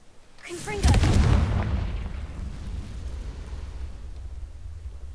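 An explosion spell in Hogwarts Legacy goes off with a sharp crack and a heavy booming blast that rolls on and slowly fades into a low rumble.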